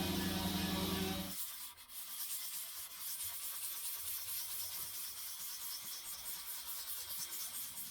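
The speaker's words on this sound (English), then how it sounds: "It's amazing the amount of sanding that is involved in guitar building." Sandpaper rubs back and forth over the wooden body of a handmade guitar, a close, steady rasping scrape that keeps up without pause after a short burst of louder noise at the start.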